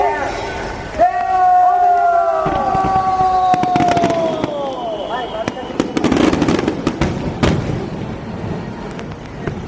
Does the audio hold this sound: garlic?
no